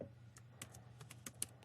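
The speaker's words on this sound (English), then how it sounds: "So double click on it, type in snare" A computer keyboard is typed on in a short, quick burst of light, close keystroke clicks over a steady low hum, with no voice.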